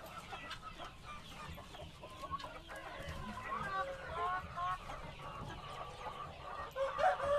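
Live roaster-size chickens cluck and chatter at an Indonesian poultry seller's pen ahead of Lebaran, several birds calling in overlapping bursts close by, with people talking in the background.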